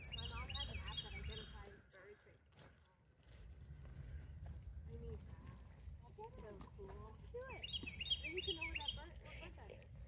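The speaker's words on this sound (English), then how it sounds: "To me, it sounds like the bird is saying, "What are you doing?" Birds chirp and call in short repeated bursts over a steady background with rustling, some clip-clop-like knocks mixed in.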